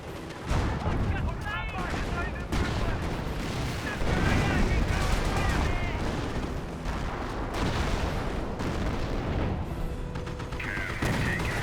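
Gunfire and explosions rumble without pause in the World War II strategy video game Company of Heroes, with dense shots and booming blasts layered into a continuous battle din, and a voice speaks over it.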